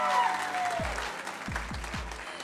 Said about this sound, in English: Can we get another round of applause for Montana?